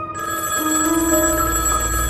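A telephone rings late at night with a steady electronic bell tone, sustained and fairly loud, with no voices over it.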